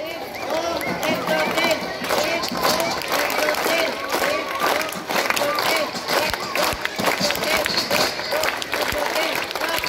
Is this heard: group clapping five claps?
yes